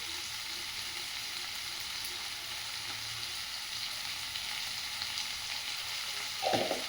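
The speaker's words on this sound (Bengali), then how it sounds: "কিছুক্ষণ ফ্রাই করবেন যতক্ষণ না টমেটোগুলো ঠিকভাবে গলে যাচ্ছে" Tomatoes fry with turmeric and salt in a pan, giving a soft, steady sizzle throughout, with a brief louder scrape of stirring near the end and no talking.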